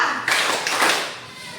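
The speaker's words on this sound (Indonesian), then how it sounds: "Tepuk 2." Two quick group claps from participants at a teachers' coaching session in response to a call, a pair of broad, close bursts of many hands, followed by fading room noise.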